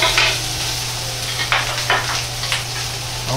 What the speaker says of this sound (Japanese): 揚げた具材を入れていきます。